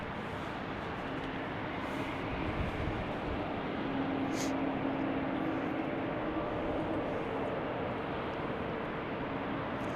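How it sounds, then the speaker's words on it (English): An airliner takes off from runway 34 right at Salt Lake City Airport, a steady broad roar of jet engines heard from a distance, holding throughout at moderate loudness with faint wind-like hiss. "runway 34 right for takeoff"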